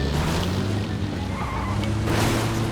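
Car driven at speed in the PUBG battle royale video game, a steady loud engine drone with tire skidding and squealing throughout, no talk over it.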